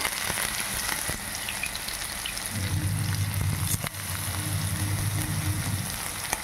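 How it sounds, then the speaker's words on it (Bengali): Egg pieces fry in a pan, both sides being cooked, with a steady close sizzle and crackle throughout and a low bubbling of hot oil rising in the latter half; no talking. "এইবার এইগুলোকে আমরা দু পিঠ খুব ভালো করে ভেজে তুলে রাখবো"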